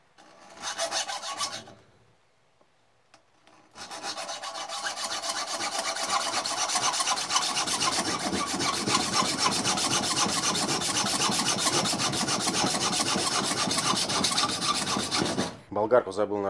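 Hand sawing through a steel profile tube fitted over a magnet to make a welding ground clamp: a continuous, loud rasping hacksaw stroke that runs steadily for about twelve seconds after a short earlier burst and a pause.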